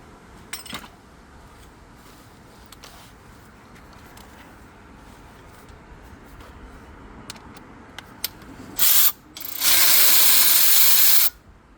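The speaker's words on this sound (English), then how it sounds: "At least crack them loose with this, and then I'll move to the angle ratchet. They're pretty tight." A power angle ratchet loosens tight front brake bolts on a 2020 Hyundai Kona in two loud close bursts near the end, one short and one longer and steady, after quiet clicks and tool handling.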